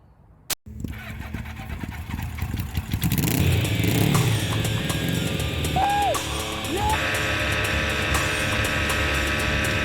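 A sharp click, then a Suzuki GS motorcycle engine fitted with cheap aftermarket carburetors cranks and catches, settling into a loud, steady idle with a brief rev partway through.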